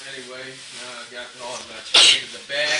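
A single loud, sharp sneeze bursts out near the end of someone's talk about coating fried chicken in a floured bag, brief and close, followed by more talking.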